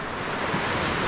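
Continuous rushing surf from ocean waves, mixed with wind buffeting the microphone, steady and fairly loud with no voices.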